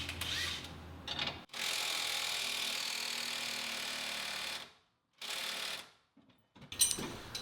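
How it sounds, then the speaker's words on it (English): An impact wrench works on the sway bar end links of a 2015 Mustang GT, giving a long buzzing, rattling burst followed by a second shorter one, with a quiet pause between. "we really want to use the impact for that"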